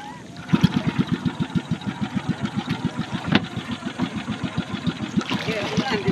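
A bangka boat engine chugs at a steady rhythmic idle, close and moderately loud, with a few brief voice sounds mixed in.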